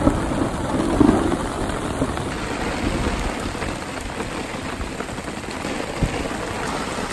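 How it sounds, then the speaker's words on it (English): Heavy rain pours down in a dense, steady hiss on a backcountry shelter in mountain wilderness, drumming hard on a nearby surface with no letup. "We're in a downpour now."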